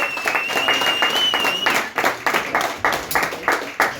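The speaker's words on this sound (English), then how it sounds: "Everybody start clapping." A comedy club crowd claps in a rhythmic, loud beat, individual claps distinct and regular, with cheering and a whistle over the first half before settling into steady unison clapping.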